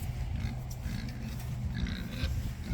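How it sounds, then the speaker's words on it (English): Pigs grunting and snorting on a small farm, a steady low rumble of close grunts running continuously with a few higher squeals mixed in, no talking. "we're gonna go see the pigs now."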